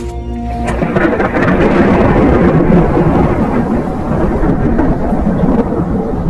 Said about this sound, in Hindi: ये बिजली भी ना इतना गरजती है कि लगता है अभी सिर पर गिर जाएगी।